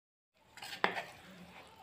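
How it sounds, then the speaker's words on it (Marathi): Gram flour is stirred into oil in a kadhai while making Mysore pak, a quiet scraping swirl with one sharp spoon clink against the pan. "तेलात बेसनपीठ टाकून चांगलं मिसळून घ्यायचं"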